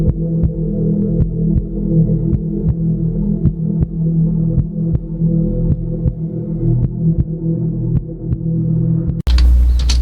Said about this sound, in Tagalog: So I added a heartbeat sound